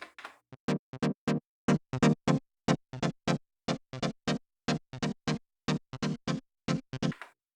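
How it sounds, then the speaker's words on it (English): A choppy synth phrase from a Yamaha RS7000 with its lo-fi variation effect adding gritty flanged, filtered distortion: rapid evenly spaced stabs in a steady rhythm, loud and up front, with no talking. "I've chosen on the variation effect attack lo-fi, which is flanging, distorting, filtering"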